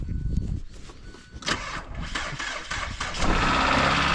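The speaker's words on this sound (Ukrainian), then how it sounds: "машина заводиться" A 2017 Hyundai Elantra bought for parts at a scrapyard cranks over and its engine catches, rising into a steady, loud idle close by, with no talking over it.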